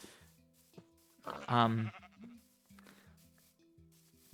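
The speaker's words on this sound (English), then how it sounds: "there's just so many sheep. I've never seen this many sheep" Many sheep in the Minecraft video game bleat in quick, short nasal calls throughout, with one loud, long bleat near the middle standing out over the quieter flock.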